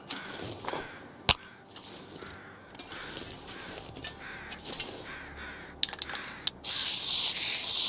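A spray paint can hisses in a sustained loud burst at the end, in The Long Dark, after quiet footsteps, rustling and a few sharp clicks as the can is shaken.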